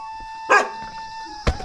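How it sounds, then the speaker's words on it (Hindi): A tied-up dog at a village house in the Uttarakhand hills barks twice, sharp and close, with a quiet pause between the two barks. "और कमलेश जी ने तो कुत्ता बांध रखा भैया, कुत्तों से डला।"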